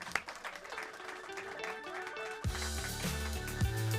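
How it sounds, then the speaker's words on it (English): An award show audience claps in a soft, scattered round that runs under music before giving way to a steadier musical passage. "So I guess we'll clap for her even though she's not here."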